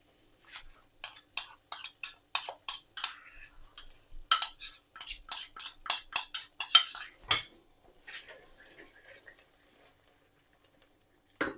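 A spoon stirring a yogurt mixture into a paneer do pyaza curry in a pan, with quick clinks and scrapes against the metal in irregular bursts, close and moderately loud, tapering off to quiet near the end.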